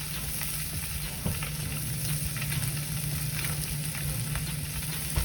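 A thick, inch-deep chop fries steadily in a pan, with constant loud sizzling and crackling, occasional sharper pops, and no talk.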